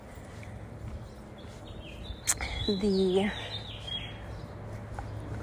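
A single bird calls outdoors, a brief, bright chirping phrase heard once midway, partly under a man's ongoing speech against a steady background hum.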